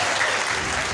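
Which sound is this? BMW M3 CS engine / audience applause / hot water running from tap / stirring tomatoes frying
audience applause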